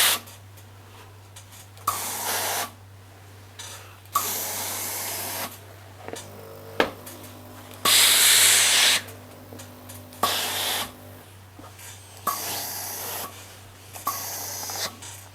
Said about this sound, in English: But as soon as you press the steam button,